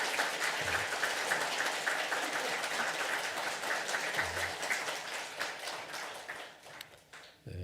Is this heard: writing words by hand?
no